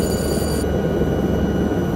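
An overspeed warning alarm sounds in the cockpit of a helicopter flight simulator game during an Alps mountain rescue mission, a steady loud electronic tone over constant rotor and engine noise.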